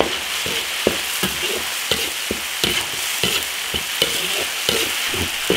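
Sichuan pepper, dried chilies and spices are stir-fried in a big iron wok over a wood-fired stove. The hot sizzle carries regular scraping clanks of the spatula, roughly two strokes a second, close and without any voice.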